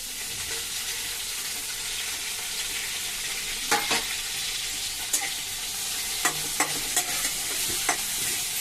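Tomatoes for cabbage roti pachadi sizzle steadily in a hot pan, with a constant frying hiss broken by occasional sharp scrapes and clicks of a spoon stirring them, no voices.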